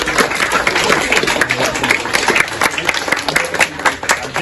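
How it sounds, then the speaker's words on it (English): Applause from children at a summer snooker club camp in a bar, a dense, steady patter of many hands clapping together close by, filling the whole stretch without pause. "you should all give yourselves a round of applause for a great effort."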